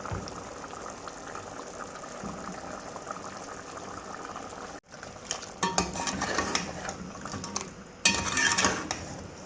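Mutton frying in about three-quarters of a cup of oil with black peppercorns, green cardamom and a bay leaf for aloo gosht, stirred in a pot: a steady close sizzle broken by louder scraping and clattering stirs, no voices.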